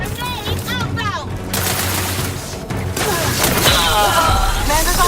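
Gunfire and a grenade in The Outer Worlds 2, with dense bursts of shots and a blast mixed with game effects and overlapping voices, loud and continuous throughout.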